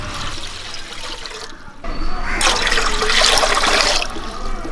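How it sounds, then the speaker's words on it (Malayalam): Water pours steadily into a cooking pot to boil rice for prawn fried rice, a loud, continuous rushing splash that swells after a quieter start and runs to the end, with no talking. "റൈസ് ഒന്ന് വേവിച്ചെടുക്കാൻ വേണ്ടി നമുക്ക് കുറേ വെള്ളം ഒഴിച്ചു കൊടുക്കാം."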